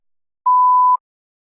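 A single clean electronic tone sounds for about half a second in silence, steady and mid-pitched, marking the start of response preparation in a TOEFL iBT speaking practice test.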